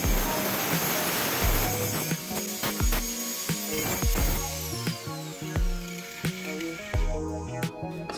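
A power tool trims excess metal plate from a homemade rotisserie roaster frame for whole chickens, giving a whirring, grinding drone broken by repeated sharp knocks and clanks.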